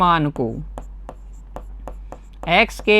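Pen or chalk writing out a maths equation in a Class 10 linear equations lesson: a run of short, crisp strokes and taps at an irregular rhythm, close and fairly clear, with someone talking at the start and end.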